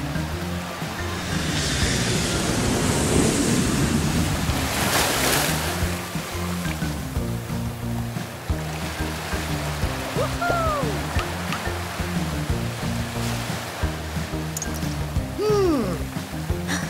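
Waves wash against the shore of the Dead Sea in a continuous surging roar, swelling loudly in the first few seconds and then settling into steady lapping, with faint whistling calls rising above it later.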